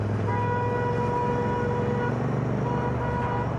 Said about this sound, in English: Why the fuck is he honking?